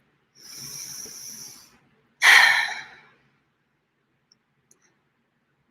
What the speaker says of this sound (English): taking long, deep, slow breaths in through your nose